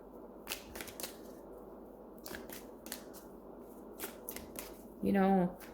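Tarot cards being shuffled by hand in a series of crisp riffling bursts and snaps, close and fairly quiet, with a short spoken phrase near the end.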